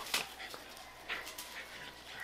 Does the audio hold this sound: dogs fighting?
yes